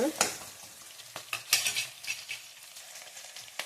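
Onions frying until golden in a pan for paneer matar pulao, with a soft sizzle broken by several quick metallic scrapes and clinks of a spoon stirring against the pan.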